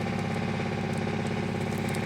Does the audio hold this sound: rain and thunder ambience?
no